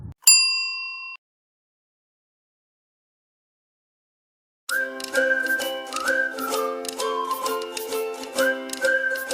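A single bright bell-like notification ding rings out and fades, followed by silence and then upbeat music starting.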